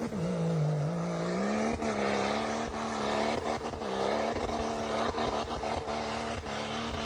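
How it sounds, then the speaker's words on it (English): An off-road rig's engine drones and bogs under load climbing a snowy hill, a steady loud labored growl whose pitch dips and recovers, with no talking over it. "He's bogging up the hill."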